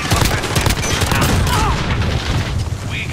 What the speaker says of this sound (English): My teammate can just watch me get shot.